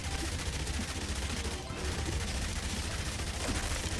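Rapid, continuous gunfire from a zombie survival video game, a steady loud stream of overlapping shots with no break, running evenly throughout with no speech.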